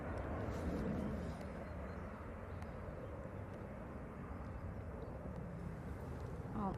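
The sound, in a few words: Ryanair airliner landing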